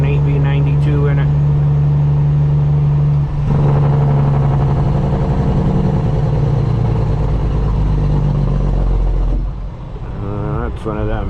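Custom Peterbilt truck with a Detroit 8V92 engine and straight pipes, loud and close on a two-lane road, a steady heavy drone that surges midway and backs off near the end, with talk over it.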